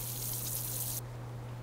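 A short burst of gushing water pours for about a second, then cuts off, leaving a steady low hum underneath.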